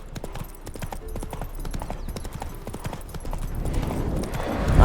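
Hooves of Roach, Geralt's horse in The Witcher 3, clip-clopping in a steady walking rhythm, close and clear, growing louder and busier toward the end as the horse grows restless.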